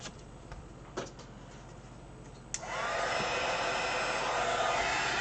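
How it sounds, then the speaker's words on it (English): Heat tool blowing steadily from about 2.5 seconds onward while heat embossing Ranger embossing powder on a tealight card, a loud continuous whooshing hiss that follows a few quieter clicks and handling taps. "And heat emboss."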